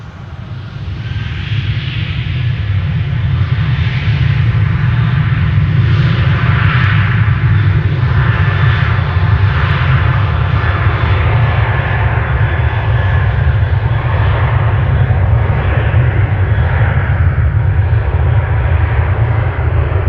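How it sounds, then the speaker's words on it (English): A KLM Boeing 737-800 jet on a turn-and-burn departure from Amsterdam Schiphol, its engines building to a loud, sustained roar that stays strong and steady throughout, with no talking. "KLM flight 1465 to Marseille, 737-800, doing a turn and burn."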